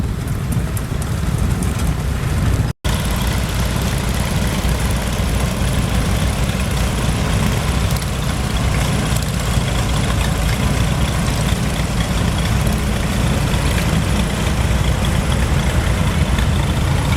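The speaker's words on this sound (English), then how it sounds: "It's built with a case boiler and a stool engine for driving a sawmill carriage." A half-scale steam engine with a Case boiler on a Farmall frame, built to drive a sawmill carriage, runs steadily at a gas and steam engine show, giving a continuous low chugging rumble. One brief dropout breaks the sound early on.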